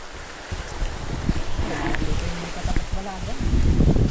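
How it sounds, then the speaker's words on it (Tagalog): Wind gusts outdoors on a rural farm plot, a steady rushing roar that rumbles against the microphone and builds toward the end, with people chatting close by. "Mahangin ay."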